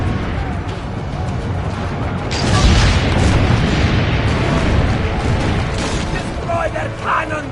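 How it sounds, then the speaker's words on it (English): Cannon fire in Assassin's Creed 2 on PS4 booms through a dense, loud battle soundscape, with a heavy blast rolling over continuous noise and game voices speaking throughout. "Load the cannon."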